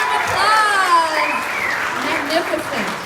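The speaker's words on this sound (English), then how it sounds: "Big round of applause." Audience clapping at an awards gala in Atlanta runs under a loud announcer's voice, whose drawn-out words ride above the steady crowd applause.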